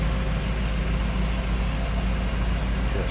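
A 1992 Chevrolet Camaro Z28's engine idles smoothly and steadily, a loud, constant low hum with an even rumble and no changes in pitch, with no talking.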